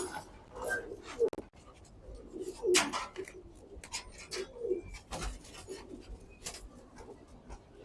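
Domestic pigeons in a backyard loft coo softly in scattered low bursts, joined by occasional chirps and rustling, with brief handling noises and no clear talk.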